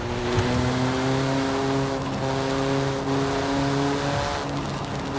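A road-legal track car in the Forza Horizon 5 racing game holds a steady engine drone that shifts pitch slightly through gears, a constant loud hum with wind and road noise and no talking.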